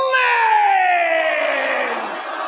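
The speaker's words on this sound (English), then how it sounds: "We hear the boos, Corey." An arena crowd in Belfast boos Becky Lynch at a WWE Monday Night Raw event: a loud, sustained, drawn-out jeering drone that slowly sinks in pitch and fades slightly.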